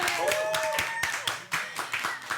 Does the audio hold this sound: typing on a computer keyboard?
no